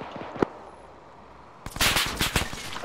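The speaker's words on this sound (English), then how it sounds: "We're taking fire." Automatic gunfire in the military video game Arma 3: after quiet, a short isolated crack, then a dense burst of loud, rapid shots near and far from about the midpoint onward.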